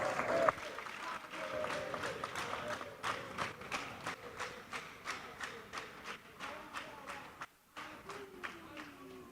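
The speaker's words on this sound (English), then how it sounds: "The applause is too low." Applause from an audience at a public event with stakeholders, a steady patter of clapping with rhythmic bursts and crowd noise, briefly dropping out before resuming.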